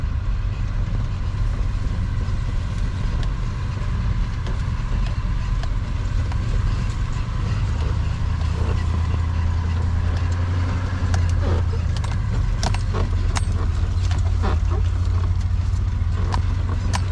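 Steady low rumble of a truck driving on a farm road, engine and road noise continuous with rattles and knocks, heard from inside the cab.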